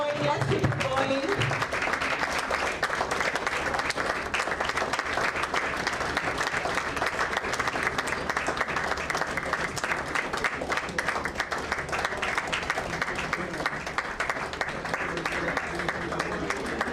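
An audience at an informal meet-and-greet with Governor Babajide Sanwo-Olu keeps up long, loud, steady applause, with an amplified voice briefly heard over the clapping at the start.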